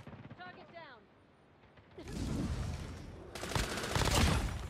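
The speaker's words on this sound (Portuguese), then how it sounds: "Um tiro." Gunfire from an M13 rifle in Call of Duty Mobile: a quiet start with a short tonal chirp, then two loud, dense bursts of rapid shots, close and harsh, the second heavier.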